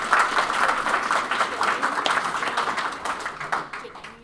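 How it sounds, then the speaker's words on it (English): An audience at a hackathon project demo day applauds, dense sustained clapping from a crowd that holds strong and then slowly tapers off over a few seconds. "please give them a big round of applause."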